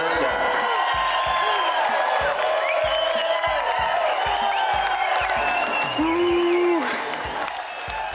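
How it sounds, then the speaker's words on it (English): An outdoor crowd at a big bass fishing tournament breaks into applause for the big fish winner. Steady clapping and a few whoops come from a medium-sized audience, with someone talking over it, then the applause fades out near the end. "Round of applause for this guy"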